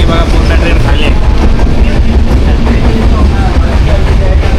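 Jamnagar–Tirunelveli Express train at Sangameshwar station, heard as a steady, loud rumble of rolling stock with broadband rail noise throughout, no distinct clacks or horn standing out.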